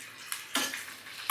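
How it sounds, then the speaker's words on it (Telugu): Baby potatoes tipped into a cooking pan for a tomato curry, a quick clatter of pieces hitting metal with a sizzling wash and a few clinks. "ఇప్పుడు బంగాళదుంపలు వేస్తున్నామండి."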